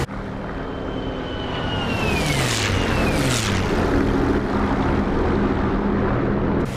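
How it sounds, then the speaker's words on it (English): WWII fighter aircraft engines in a DCS flight simulator game drone steadily throughout, loud and close, with engine tones sweeping downward as the planes pass by. "Man, those engines sound sexy."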